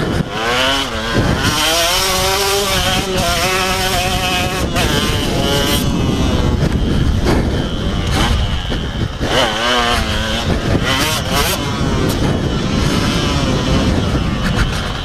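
A 2003 KTM 125 two-stroke motocross bike is ridden hard, its high buzzing engine repeatedly revving up and dropping off between gear changes, loud and close throughout with no talk.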